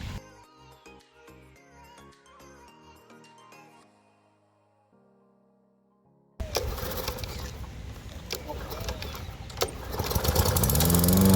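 A garden lawn mower engine runs loud and rough through the second half, starting abruptly after several seconds of quieter ringing, tonal sounds.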